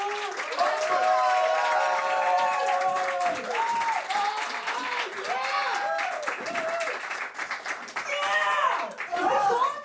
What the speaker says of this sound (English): Give me just a huge round of applause for this amazing woman.